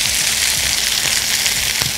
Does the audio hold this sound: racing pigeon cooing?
no